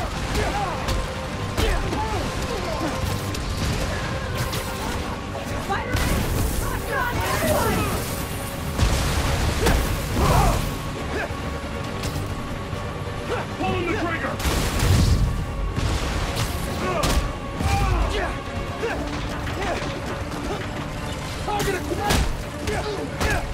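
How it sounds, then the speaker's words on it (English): Scattered gunshots and bursts of fire crack and boom at varying distances over a steady background in a blizzard in the video game Spider-Man: Miles Morales, with a voice talking intermittently. "I need to head toward the gunfire."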